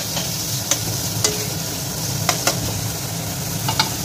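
Chopped garlic, ginger and green chili are stirred into masala frying in a pan, with a steady low sizzle and a few sharp scrapes and clinks of the spoon against the pan.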